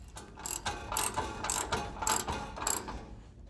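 A hand ratchet tightens the bolts holding a bumper onto a 1967 Chevy C10 pickup, giving close, crisp clicking strokes in a steady back-and-forth rhythm with no voices.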